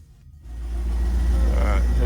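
Corvette C5 engine starting up after harmonic balancer work, a low, steady rumble swelling out of near silence into a loud, continuous idle close by.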